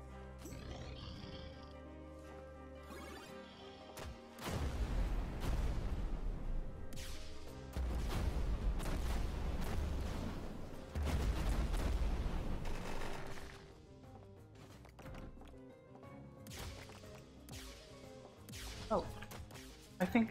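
Rapid bursts of Flak Cannon fire in the roguelike game Burning Knight, dense crackling volleys with shattering projectile impacts between quieter pauses, under game music.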